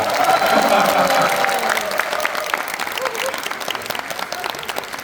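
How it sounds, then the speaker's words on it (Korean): An audience at a film talk event in a cinema hall claps loudly, the applause building briefly then tapering into scattered clapping beneath murmuring voices. "박수 한 번만 부탁드릴게요."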